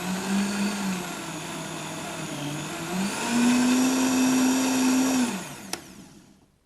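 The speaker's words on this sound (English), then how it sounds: "I just blended that lightly to start with to get some juices going" Blender whirring through chunks of watermelon, a loud steady motor drone that dips, then rises to a higher, even pitch before cutting off with a click and fading.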